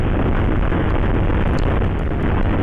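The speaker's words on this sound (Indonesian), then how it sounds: "saya geber semaksimal mungkin seperti itu loh" A Honda New Megapro motorcycle engine, fitted with a PI28 carburetor and ridden at a race circuit, is revved hard to maximum, producing a loud, sustained, rough roar with no talk over it.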